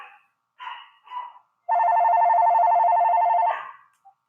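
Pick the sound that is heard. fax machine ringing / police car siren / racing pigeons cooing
fax machine ringing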